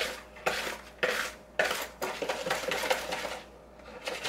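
Jiffy cornbread batter beaten in a bowl, a utensil scraping and knocking against the sides in a quick repeating rhythm of about two strokes per second, close and clear, with no talk.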